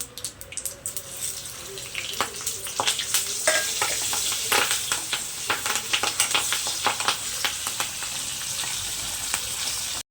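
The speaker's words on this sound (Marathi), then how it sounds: "तर त्यामध्ये ना आपण हे कढीपत्ता, हळद, मीठ आणि हिंग टाकून घेऊया." Curry leaves, turmeric, salt and asafoetida hit hot oil with a loud, crackling sizzle, followed by a steady run of sharp spattering pops close by, with no voices over it.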